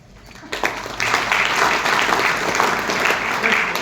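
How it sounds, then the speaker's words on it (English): Audience clapping at a business conference, a sustained, fairly loud wash of applause starting abruptly after a brief quiet moment and continuing steadily to the end. "How you clap normally?"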